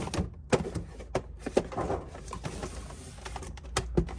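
Cardboard toy box being opened, its flaps lifted and a Marvel figure set slid out, giving soft scraping and rustling with a few sharp taps and thumps, close up.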